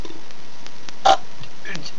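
A single short burp from a person, loud and brief in the middle of an otherwise quiet moment, with faint background noise around it.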